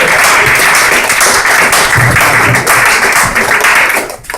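Loud, dense applause from a comedy show audience greeting comedian David Hable, a close, sustained wash of many clapping hands that fades at the very end.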